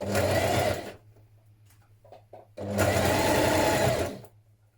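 A sewing machine stitches a turned-under hem on the pocket of a McCall's 8070 hoodie, a steady close whirring run, a pause with faint handling clicks, then a second longer run.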